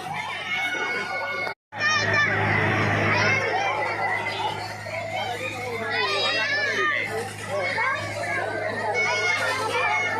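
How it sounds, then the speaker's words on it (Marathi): A crowd mills about at a village yatra in Gokul Shirgaon, loud and close, with children's shouts, chatter and bursts of screaming blending into a constant babble. "भरपूर गर्दी आहे"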